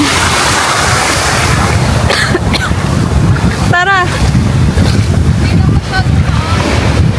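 Ocean waves wash steadily onto a beach, a broad windy roar with gusts buffeting the microphone, while voices and a child's call break through briefly.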